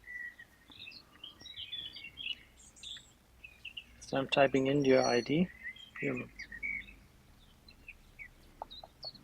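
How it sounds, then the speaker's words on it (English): Small birds chirp and call faintly in a spring outdoor setting, scattered brief tweets throughout behind a nearby man's speech. "Nice birds in the background. Yeah, it's spring."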